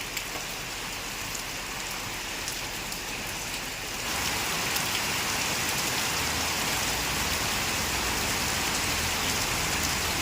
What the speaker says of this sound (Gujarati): વરસાદ આજે પાછો ચાલુ થયો